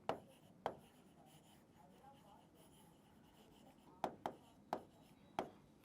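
Pen strokes and taps while writing notes for a Class 10 biology mind map, as a few sharp, quiet ticks spread irregularly with a cluster near the end, with a voice talking faintly.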